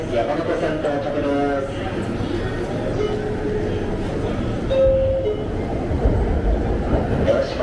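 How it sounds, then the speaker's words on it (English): A Yamanote line train pulls into a platform at Shinjuku Station, with a steady rumble of rail noise and a brief high tone as it arrives, set against busy station ambience and announcements. "Before the yellow train leaves, another Yamanote train comes in."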